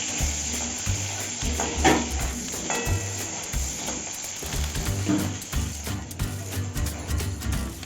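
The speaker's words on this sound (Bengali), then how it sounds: "এই হলুদ আর নুন দিয়ে একটু আলুটা ভেজে নেব।" Potato pieces seasoned with turmeric and salt fry in a pan, a close sizzle broken by repeated scraping strokes of stirring in an uneven rhythm.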